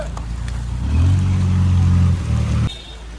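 Busy evening road traffic in Bahrain, where a close vehicle engine drones and swells in a low rumble before dropping away abruptly, over a steady hum of other traffic.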